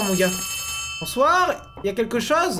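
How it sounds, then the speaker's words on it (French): A telephone rings inside the video game Poppy Playtime Chapter 3. It is a thin electronic ring, strongest at the start, and someone talks excitedly in French over it. "Oh, il y a un téléphone qui sonne"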